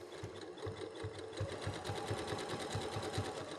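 A sewing machine stitches a fabric St Patrick's Day garland, running at a steady even pace with a rapid, regular mechanical clatter throughout, close and alone.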